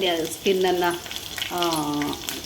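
Chopped garlic, skins still on, sizzles and fries in hot oil in a pan, a steady bubbling crackle with a few brief stirring sounds over it.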